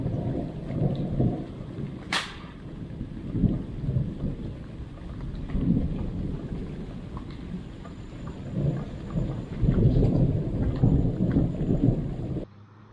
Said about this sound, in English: The popping sound you hear next is the transformer going out due to the power outage